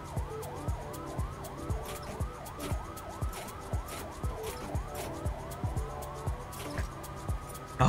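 Emergency vehicle sirens from fire trucks and ambulances wail in a flight attendant simulator VR game, rapid rising yelp cycles repeating steadily over a low engine-like hum, with no talk.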